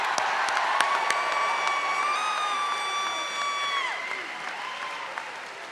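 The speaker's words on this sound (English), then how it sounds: "So let's all give Mr. Steve Bowen a round of applause for getting through all those names." A large crowd at the West Forsyth High School class of 2022 graduation applauds and cheers, a broad sustained roar of clapping with a loud whistle and whoops rising above it before easing off.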